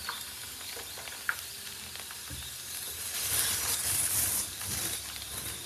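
Onions sizzle steadily in a hot pan for butter chicken, a continuous frying hiss that swells louder midway, with a few faint clinks and stirring noises and no talking.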